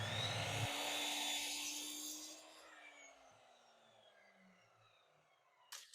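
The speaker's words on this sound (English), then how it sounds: "Then we move over to the miter saw to start on our cuts." A miter saw cuts through a wooden fence picket board with a loud, bright whine, then the blade winds down in a falling tone to near quiet, ending with a couple of small knocks.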